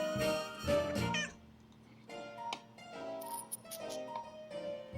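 A cartoonish cat meows from a mystery adventure game, Secret of the Old Clock, with a few clear meow calls over soft game music.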